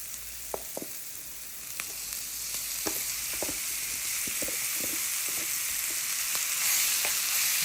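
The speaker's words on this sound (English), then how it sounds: "Saute the veggies for a good, 4 to 5 minutes." Sautéed peppers and shaved ribeye sizzle steadily in a hot pan, with scattered light clicks and scrapes from stirring over a constant frying hiss.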